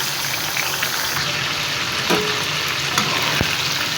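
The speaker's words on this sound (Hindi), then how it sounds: "मैंने कहा चलो जितनी देर ये मसाला वगैरह फ्राई कर लूँ" Spice masala frying in a pot for a large batch of chicken rice, a steady close sizzle with a couple of faint clinks and one sharp tap of a utensil against the metal.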